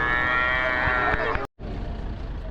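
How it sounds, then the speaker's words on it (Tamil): Cattle low and moo at a weekly livestock market in Karur district, Tamil Nadu, with one long sustained call dominating before a brief drop to silence, followed by continuing farm-animal noise and crowd murmur. "கரூர் மாவட்டம் உப்பிடாமங்கலம்னு சொல்லிட்டு இந்த சந்தை, மாட்டு சந்தை."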